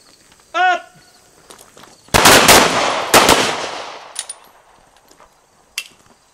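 Pistol gunfire at an outdoor combat-focus shooting drill: a loud burst of several rapid shots, then a pair of shots with echoing tails and a later isolated report, near and sharp, after a short beep.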